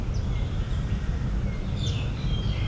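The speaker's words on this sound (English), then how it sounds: "The sound of birds." Birds chirp and sing faintly in a park in Malaysia, a few thin, high calls over a steady low rumble of outdoor background noise.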